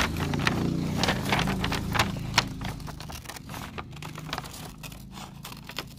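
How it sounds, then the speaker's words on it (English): Scissors snip through a colored paper drawing, cut slowly along the lines with steady, light crisp snips and paper rustle close by, with no talking. "the next thing you want to do is actually cut this out"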